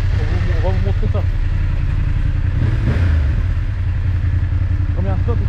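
A motorcycle rides through the streets of Rouen in Normandy: a loud, close, continuous low engine rumble, with brief voices over it.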